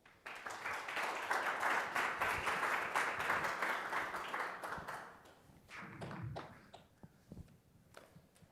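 An audience at a Berkeley talk on inequality applauds to welcome speaker Paul Pierson, a dense, steady burst of clapping that fades out after about five seconds and leaves scattered last claps.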